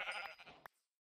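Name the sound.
sheep bleating in Minecraft video game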